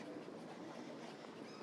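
A steady, faint rumble of a train rolling at Helsinki central railway station in the city centre, continuous and even, heard from some distance with no voices.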